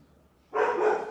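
A dog barks once at home, a single close, sharp bark that bursts in after a quiet moment.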